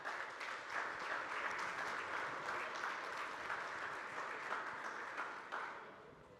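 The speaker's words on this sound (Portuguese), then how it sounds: "Vamos recebê-la com aplauso." Steady audience applause greets speaker Priscila Kaiser at a tax-reform talk in São José do Rio Preto, a dense, even clatter of many hands lasting several seconds before tapering off near the end.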